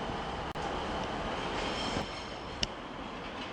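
At Manchester Piccadilly station a train rumbles steadily on the rails. A few sharp clicks and one brief high squeal cut through the constant rolling noise.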